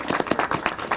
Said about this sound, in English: Let's applaud the mayor.